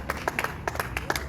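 A church congregation applauds at a service, with scattered sharp claps in an irregular rhythm, moderately loud and close, and no talk over them.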